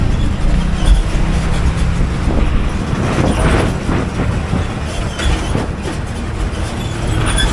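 A Chennai–Palakkad superfast express train runs steadily on the rails between Salem and Palakkad Town, a continuous loud rumble of wheels and carriage noise with faint rhythmic clatter and no gaps.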